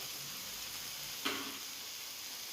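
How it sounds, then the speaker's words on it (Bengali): Chilli and cumin paste frying with taro leaves in a pan, giving a faint, steady hiss with one brief stirring scrape midway. "খুব ভালো করে নেড়ে চেড়ে মশলার সাথে এগুলো আমি ভেজে নিয়েছি"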